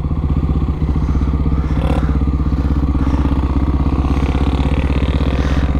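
A Honda XRE 299cc motorcycle engine drones steadily while riding, a close, loud, even thrum with a pulsing low rhythm and faint rattles, with no pause throughout.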